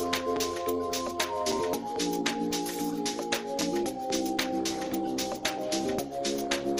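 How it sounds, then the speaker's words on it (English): A VCF synth bass line for amapiano plays a steady, rhythmic pattern of punchy repeated notes with sharp percussive hits, filling the clip without pause. "It's this VCF bass, and then it sounds like this."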